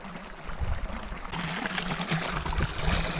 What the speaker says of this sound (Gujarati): આ વાડી મોટર ચાલુ છે. અહીંયા પાણી આવે.